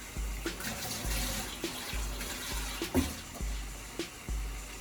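Water runs steadily from a kitchen tap nearby with a continuous hissing flow, broken by small splashes and clinks at irregular intervals, while cooking rice and beans.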